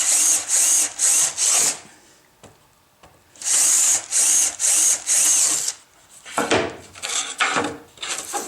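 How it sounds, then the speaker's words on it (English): A power drill bores a larger hole in wood during a construction build, running in several short, loud bursts with brief pauses, then a quiet gap and a looser run of grinding, ratcheting spurts. "we'll drill a larger hole here than we would use"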